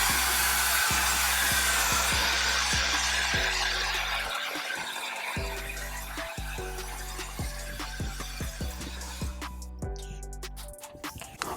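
A blow dryer blasts hot air around a scalp in a barbershop, a loud, steady broadband whoosh with brief dips and cutoffs as the airflow shifts or stops, running almost the whole time without talk.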